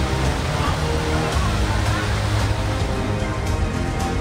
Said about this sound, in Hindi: सड़कों पर सैलाब ऐसे बह रहा है मानो सब कुछ बहा ले जाएगा